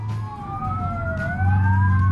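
A police car siren in the BeamNG driving game wails in rising and falling sweeps, loud and continuous over an engine drone that grows heavier near the end.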